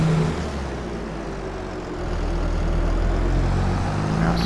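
Farm vehicle engine running steadily in Farming Simulator 22, a constant low rumble with a slight rise in level midway, heard alone without talk.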